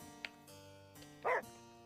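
A dog in the video game Murder Is Game Over barks once sharply, then gives a louder, fuller bark a second later, both short and close over a soft, droning game music bed.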